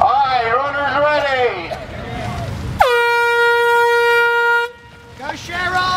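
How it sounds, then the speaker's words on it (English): An air horn blares one long, loud, steady blast of about two seconds to start runners at a race. It comes after excited voices and is followed by a brief pause and more voices. "and then I'll sound off the air horn."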